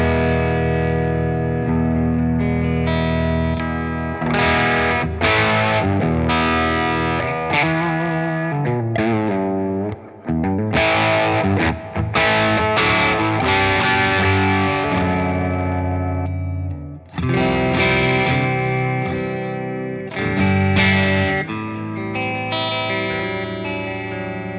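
Electric guitar on the neck pickup through a Bogner Ecstasy amp gives a pushed-clean tone, with continuous strummed chords and riffs played loud and close, steady throughout with brief pauses between phrases.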